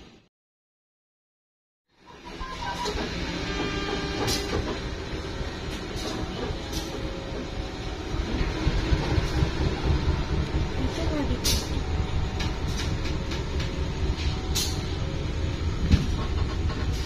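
A local economy train on track 3 at Kuto Jaya Selatan station waits for a signal, a loud continuous rumble and hiss of engine and air brakes that swells midway, with scattered clanks.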